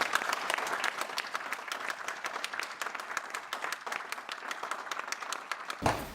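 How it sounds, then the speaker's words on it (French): An audience at a Paris commemoration honouring FLN mujahideen veterans gives steady, dense applause from many hands that fills the hall and continues throughout before fading at the end. "Veuillez les acclamer, les honorer."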